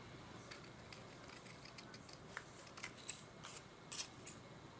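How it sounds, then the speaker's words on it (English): Scissors snip paper for a folio, trimming up to the score lines in a series of soft, quiet cuts that quicken toward the end, with no voices. "I'm going to take it and I'm going to trim it off right to where they meet"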